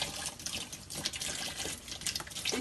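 Waste sullage water runs from a collection tank into a small turbine, giving a soft, continuous trickling and splashing that stays faint and steady throughout.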